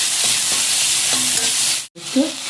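Tomato mixture stirred in a hot pan for egg gravy, giving a steady close sizzle with scraping spoon strokes throughout, one brief break near the end, then the sizzle resumes.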